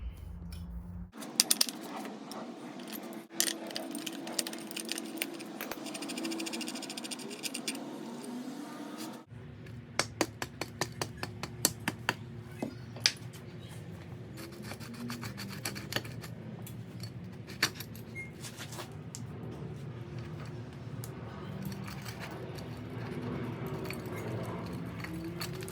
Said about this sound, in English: Now I'm going to remove the axle nut, and I'm using a 1 1/16 socket.